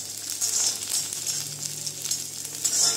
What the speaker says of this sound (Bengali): এর মধ্যে আমি দিয়ে দেবো কাঁচা লঙ্কাগুলো, দিয়ে অল্প নাড়াচাড়া করে নামিয়ে দিব।